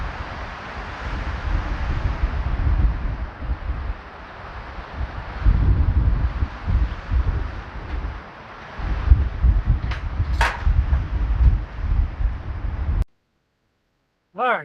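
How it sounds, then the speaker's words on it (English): Strong wind blows steadily outdoors at a backyard chicken coop run build, with loud microphone buffeting and rumble that rises and falls in gusts, then cuts off abruptly near the end; a few brief sharp sounds come through. "couldn't have timed it worse with this wind"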